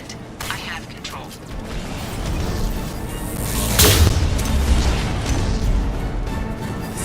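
Gunfire and heavy booming in the video game Mass Effect 2, with a rumbling, continuous barrage and a loud blast partway through, mixed with game dialogue.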